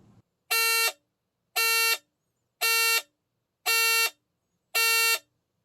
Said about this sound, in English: There is a chime to indicate the depression of the keypad for certain events, such as the automatic door release